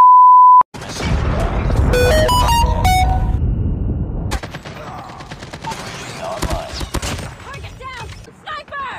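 A Predator missile strike in a multiplayer shooter game: a short beep, then a heavy booming blast with a long rumbling tail, layered with bright game chimes, scattered gunshots and voices talking.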